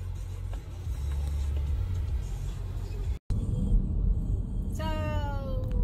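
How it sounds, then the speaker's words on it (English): Steady low rumble of a car driving, heard from inside at moderate loudness, briefly cut off for a moment before resuming, with a faint tonal chirp near the end. "we're gonna go drive"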